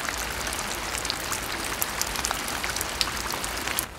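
Rain falls steadily on a rainy day by the Han River, a dense close hiss of drops pattering on surfaces that cuts off abruptly at the end, with no talk.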